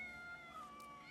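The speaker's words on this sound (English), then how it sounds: "Calico cat, I'm come to pet you." Calico bobtail cat in the video game Assassin's Creed giving a single short, faint, drawn-out meow, heard alone.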